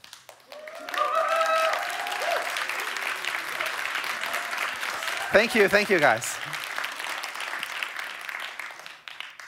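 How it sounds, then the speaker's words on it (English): A large audience at a London smartphone launch event claps in a sustained round of applause, dense and steady, while a presenter speaks over it briefly. "we'd love to give you a round of applause"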